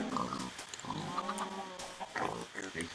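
Pigs grunt and oink in the Minecraft video game on an underground farm, a cluster of short snorts and squeals with a person talking over them.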